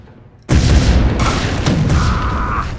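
A grenade blast in the video game Chaser: a sudden heavy boom cuts in from near-quiet and rolls on as a loud sustained rumble, with a second thud and a brief ringing tone inside it.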